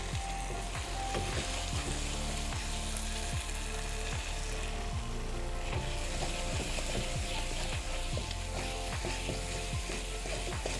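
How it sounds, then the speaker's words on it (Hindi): Chicken frying with spices in a pan, a dense continuous sizzle with frequent scraping and stirring clicks from a utensil, close and steady throughout. "हमारे चिकन भुनने पर आ चुकी है, मसाले ने पैन छोड़ दिया है।"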